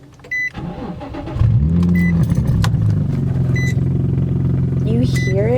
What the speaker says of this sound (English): I'm actually going to let you guys listen to what the car sounds like now